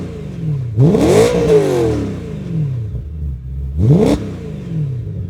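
A BMW E92 M3 GTS with titanium rear silencers barks through two sharp revs, the pitch sweeping up and falling back, with a deep idle burble in between.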